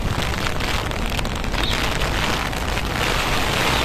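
Heavy rain falls during Typhoon Enteng in Hong Kong, a loud, continuous broadband rush that stays constant for a few seconds with no voices.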